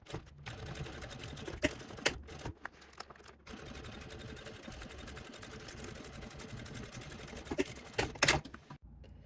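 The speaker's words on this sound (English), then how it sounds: "So we have enough space to actually sew." A sewing machine stitches the sides of a clear tote bag, running in a steady close mechanical rattle for several seconds with brief pauses and a few louder clacks near the end.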